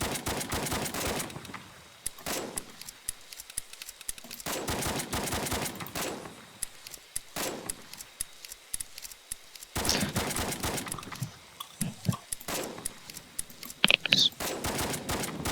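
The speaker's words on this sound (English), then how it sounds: "Alright, present arms. Fire team, fire at will." Rifle gunfire in the Roblox military shooter BRM5 during a fire-at-will drill: loud bursts of rapid shots in several volleys with short pauses between, game weapon sounds close and sharp, with a brief voice in the mix.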